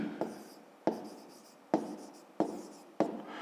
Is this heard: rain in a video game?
no